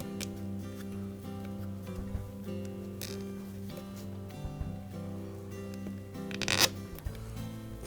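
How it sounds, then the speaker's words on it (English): A replacement wire tie is ratcheted tight around a Whirlpool washer's tub-to-pump hose, making a run of fine zipping clicks, close and fairly quiet, that ends in a sharper burst near the end. "We'll just fit that replacement wire tie"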